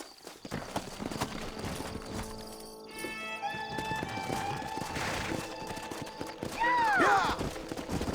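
Horse hooves clip-clop in the Western video game Red Dead Redemption, a steady trotting beat with tonal whistles and a whinny near the end.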